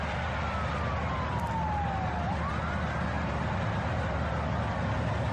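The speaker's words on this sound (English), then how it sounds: "I hear sirens." A siren wails steadily, its pitch sweeping down and back up, sounding somewhat distant over a constant rumbling background at a railway.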